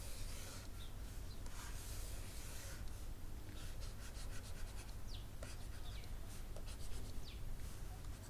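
A classroom board is wiped clean during a maths lesson, a continuous close rubbing and scrubbing with repeated back-and-forth strokes, heard alone with no talking.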